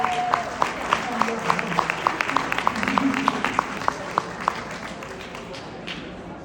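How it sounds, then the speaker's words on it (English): Audience at a truth seeker conference in Miami breaks into steady, moderately distant applause, crowd clapping filling the room with rapid hand claps that gradually thin out toward the end. "Let's give Auntie Colette a big round of applause."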